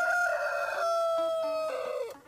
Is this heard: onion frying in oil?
no